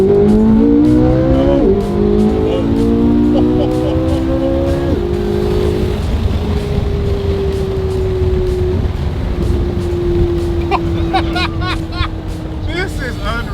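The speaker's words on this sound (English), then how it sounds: "I love the engine braking sound on this car" A supercar engine braking, with loud, close falling engine tones that step down through several downshifts and then settle into a long descending drone, likely with a voice talking over parts of it.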